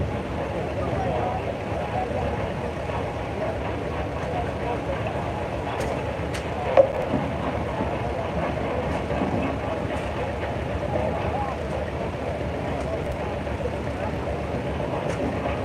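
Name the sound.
1951 Massey Harris Pony tractor driving in a parade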